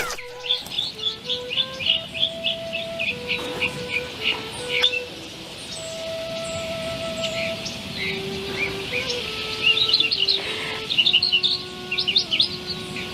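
Birds chirping and tweeting in a nature scene, with rapid high chirps over long held tones and a soft continuous background, bursts clustered at the start and end.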